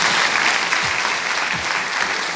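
A theater-like crowd bursts into dense, sustained applause at a public gathering, loud and even throughout with no break.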